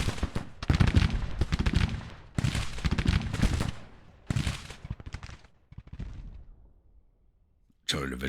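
Musket volleys crackle in Grand Tactician: The Civil War as Union and Confederate lines trade fire in a battle at Franklin. The rolling bursts come in several waves, fading out before a sharp new burst, with someone talking throughout.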